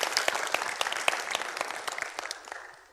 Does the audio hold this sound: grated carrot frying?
no